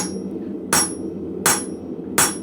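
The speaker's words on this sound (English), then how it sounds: "Going to grab your hammer, start hitting that down." Three evenly spaced, sharp metallic blows ring out as a blacksmith's hammer strikes down on a hot rivet, each clang standing out clearly over a faint low background hum.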